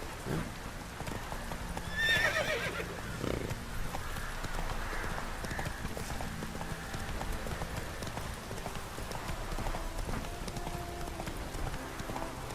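Roach, Geralt's horse in The Witcher 3, gallops with rapid close hoofbeats and gives a sharp neigh early on. Faint rain and game ambience sit underneath.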